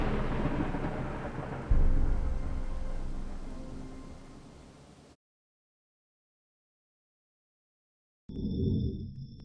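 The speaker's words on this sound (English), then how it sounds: "a terrible storm was just beginning" A heavy thunderstorm rolls with loud rumbling thunder over steady rain, a big crack partway through, then fades out; after a silent pause another burst of storm noise returns.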